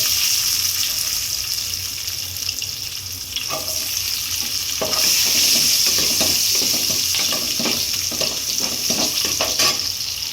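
Finely chopped onions fry in hot oil as tempering for a home-cooked South Indian kuzhambu, giving a continuous close sizzle with occasional stirring scrapes and brief clatters, and no talk.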